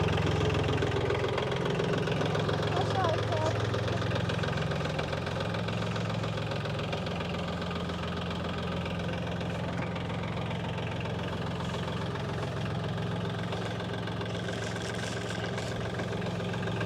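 A mini tractor's engine idles steadily after being started, a close, even mechanical knocking rumble with a constant throb and no talking.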